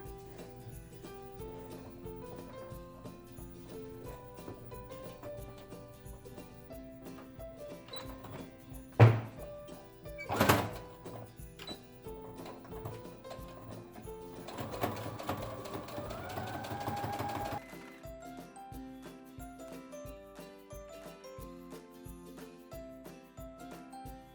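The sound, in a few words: sewing machine top stitching fabric face mask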